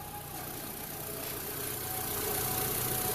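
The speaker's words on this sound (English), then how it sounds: "So right now it's not misfiring, it's running really smooth." A 2005 Mini Cooper engine idles smoothly without misfiring, a steady even hum and whir that grows slightly louder toward the end, with no voices.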